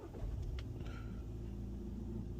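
A Skoda Kodiaq's engine starting via keyless go during fault diagnosis, with a brief cranking burst, then a steady low idle rumble close by.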